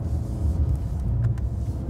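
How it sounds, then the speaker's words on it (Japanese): Mercedes-Benz S-Class AMG on a road drive, its engine giving a low, steady rumble with a brief burst of exhaust on the downshift, close and fairly loud. "バホってシフトダウンした時の音がいかにも AMG らしいですね。"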